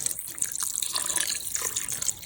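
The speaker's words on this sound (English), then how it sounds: "I'm now just going to basically level it off with some water." Plain water is poured into a pot of smoked brisket chili, a continuous splashing gush that runs steadily at moderate volume throughout.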